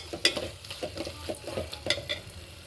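A spoon scrapes and stirs okra curry in a pan with a soft sizzle underneath, in a steady series of close, light strokes.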